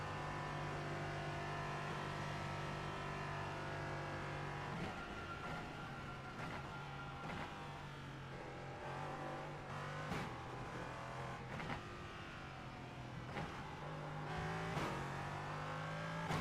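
A race car engine in iRacing labours uphill in sixth gear, a steady low drone that holds a sluggish pitch, with brief clicks and shifts breaking through at intervals.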